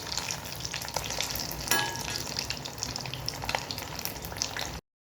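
Fish coated in lentil powder fries in hot oil, a continuous close crackling sizzle with occasional stirring scrapes that stops abruptly near the end.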